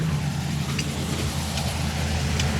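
A 1957 Chevrolet Bel Air convertible engine idles steadily nearby, a continuous low rumble with no talk over it.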